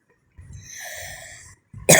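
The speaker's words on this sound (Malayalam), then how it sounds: "ഭയങ്കര ചുമയാണ് ഗൈസ്" A person coughs at close range: two rough, breathy bursts, then a sharper, louder cough at the end, with no talking.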